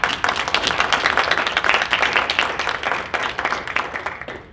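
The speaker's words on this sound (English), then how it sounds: "So how about you give yourselves a round of applause?" Applause from an audience at a flag raising ceremony for International Student's Day, with crisp individual claps standing out in a lively crowd clatter that fades away at the end.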